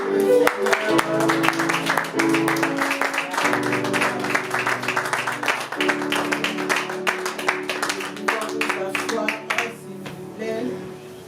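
A church congregation claps steadily through a Sunday service, a dense rhythmic clapping under a singing voice and sustained music, growing sparser toward the end.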